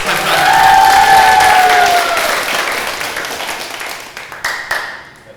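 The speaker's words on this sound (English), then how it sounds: "let's give him a big round of applause." Loud crowd applause with cheering and whoops at a church summer retreat panel, a dense burst of clapping and shouting that gradually tapers off, leaving a few scattered claps near the end.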